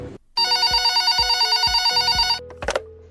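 A telephone rings loudly on a radio quiz show as a caller comes through: a steady electronic bell tone with an even, pulsing rhythm that cuts off after about two seconds, followed by a few clicks.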